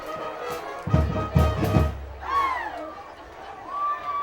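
A high school football crowd in Blacksburg murmurs and swells at the game, with a burst of rhythmic thumping and shouts from the stands, then a whistle-like tone, under faint talk.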